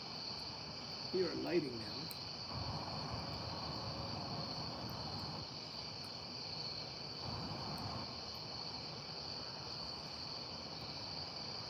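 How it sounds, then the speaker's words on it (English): Crickets chirp at night in a constant high, thin trill that stays faint and steady throughout, with someone speaking briefly and some quiet rustling in the background. "I can hear the crickets just fine"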